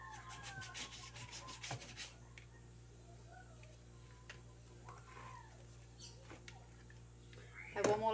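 A kitchen knife scrapes in quick rhythmic strokes against a sharpener at the start, then scattered faint rubbing, with a chicken or other bird and a voice audible nearby.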